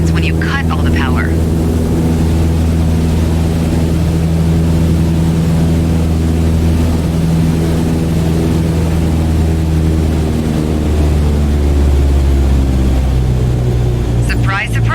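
Cessna 152 engine in Microsoft Flight Simulator after the throttle is cut, a loud, steady, low propeller drone that holds throughout with a slight swell near the end.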